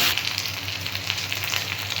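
Ginger paste frying in hot oil in a pan, a steady close sizzle with a bright crackling hiss running throughout, with no talk.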